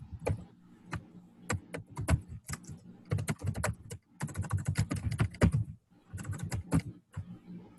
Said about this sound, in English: then I can just go in and start typing